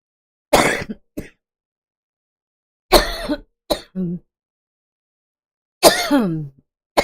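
Several harsh coughs in short bursts, separated by silent gaps, with a rough throat-clearing rasp in between, close and loud.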